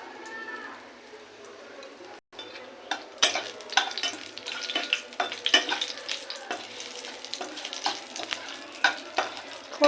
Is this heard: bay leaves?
yes